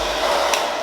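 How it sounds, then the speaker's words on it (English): A hair dryer on its warm setting blows steadily and loudly, a continuous airy roar with no talking. "I'm gonna take the blow dryer on in the warm setting,"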